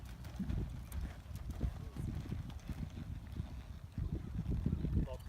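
Rhythmic thuds of horse hooves on soft ground during a barrel racing lesson, steady and moderately close, with a faint voice in the background.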